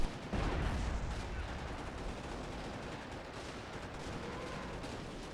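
Nebelwerfer rocket artillery barrage in a WWII video game, a dense, continuous rumble of blasts and crackling impacts that starts abruptly and rolls on steadily at moderate distance, with a voice faintly audible beneath.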